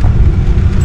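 A Honda car passing close by on a road, a steady loud low engine and tyre rumble that holds level throughout the short moment.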